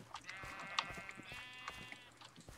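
A sheep in the Minecraft video game bleats with a quavering tone, repeated twice over faint clicking game sounds, quiet and close.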